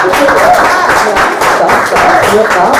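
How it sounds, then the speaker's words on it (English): Dense, steady clapping from a crowd at a spoken-word poetry venue, filling the whole stretch, loud and sustained with no pauses. "Applause."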